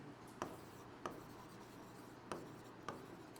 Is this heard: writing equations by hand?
yes